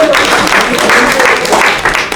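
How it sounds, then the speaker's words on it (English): An audience at a community event breaks into loud, dense applause that holds steady throughout a brief burst of clapping. "Can I get a round of applause?"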